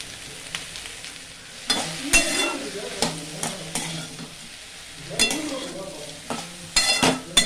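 Okra and onion being sautéed on a low flame for a South Indian vendakkai poriyal, with a spoon stirring and scraping the pan in repeated bursts over a soft, steady sizzle.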